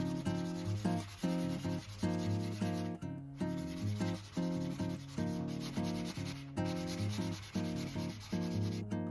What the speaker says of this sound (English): Take a fine grit sanding block and I'm just gonna sand off the excess.